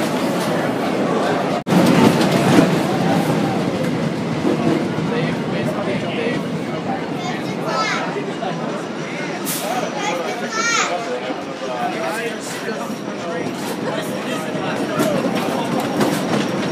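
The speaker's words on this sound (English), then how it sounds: "the very last Beast train of the 2013 Kings Island season" The Beast roller coaster train at Kings Island on the 2013 season's closing day, a continuous loud rumble and clatter of wheels on track with crowd chatter mixed in throughout.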